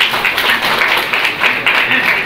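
Dense audience applause at a public talk, a continuous loud wash of many hands clapping with slight swells, heard close and without distinct voices.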